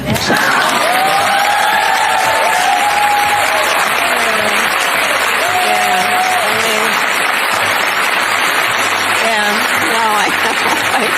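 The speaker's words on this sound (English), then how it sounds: "You can hear under the applause" Loud, sustained applause from a large crowd fills the room without a break, with a few whoops and cheers rising above it and voices audible underneath.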